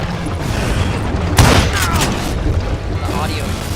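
A dynamite blast in the Western game Red Dead lands as one loud broadband boom with a rumbling tail, set against steady game ambience and background noise.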